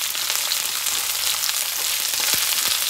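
Garlic and thickly cut onions fry in a pan for chana chilli, giving a dense, even hiss of sizzling oil, loud and close, with a few faint stirring clicks near the end.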